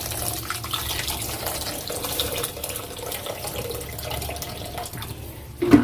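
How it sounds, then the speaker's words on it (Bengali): Water poured into a cooking pot of dal in a home kitchen, a steady splashing flow that runs for several seconds at moderate level, ending with a louder burst. "জলটা দিয়ে দিই।"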